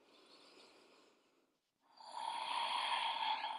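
Slow breathing in a yoga pose on the floor: one soft, long exhale fades into a short pause, then a louder, airy breath follows close to the microphone, with no talking.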